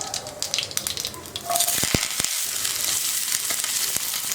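Chopped onions and curry leaves go into hot oil already crackling with mustard seeds and cumin. A steady, moderately loud sizzle rises suddenly partway through and keeps going, with a few sharp pops and clicks.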